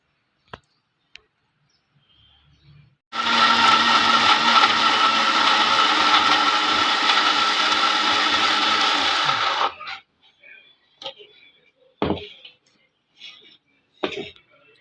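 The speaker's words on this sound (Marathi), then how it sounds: "याला मिक्सरला लावून घेते।" A mixer grinder blends chopped, peeled mango with full-fat milk, roaring loud and steady for about seven seconds before cutting off. Faint clicks and handling knocks come before and after.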